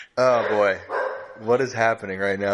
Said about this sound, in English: I don't know if you can hear that barking.